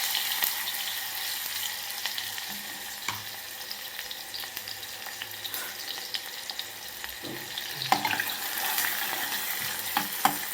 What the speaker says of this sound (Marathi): तर आता तेल गरम झालेलं आहे, त्यामध्ये आपण कांदा घालायचा आहे सगळ्यात पहिल्यांदा